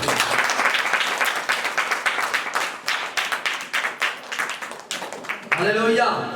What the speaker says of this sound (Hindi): तालियां हो जाए परमेश्वर